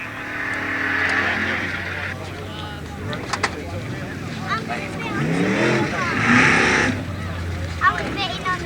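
Drag racing cars at North Weald in 1986 roar loudly down the strip, engines revving and passing close, while a commentator talks over the noise.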